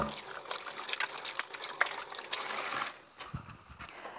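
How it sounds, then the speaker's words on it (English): Cold tap water splashing and trickling over hands being rinsed in a kitchen while cooking, a steady close wash that fades out near the end. "Now I've just rinsed my hands."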